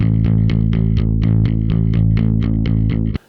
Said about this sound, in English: here's what the non-affected bass sounded like